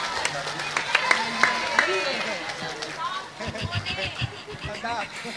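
An audience claps together at an Islamic religious talk in Tukdana, Indramayu. A dense burst of crowd applause fills the first few seconds, then fades under murmuring voices and a speaker talking.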